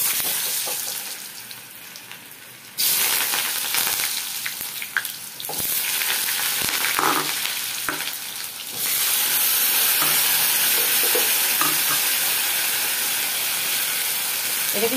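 Vegetables with cumin seeds, cardamom and cinnamon hit hot oil and sauté, a loud, close hissing sizzle that jumps up twice as more goes in, with rattling stirs and scrapes throughout.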